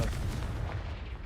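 A Confringo blast spell in the Hogwarts Legacy video game lands as a heavy, booming burst with a deep rumble that fades over about a second.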